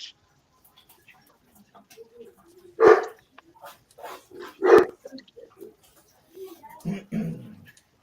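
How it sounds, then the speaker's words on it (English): A few sharp dog barks break out among scattered softer sounds and voices, with gaps of quiet between them. "That's why you hear them barking."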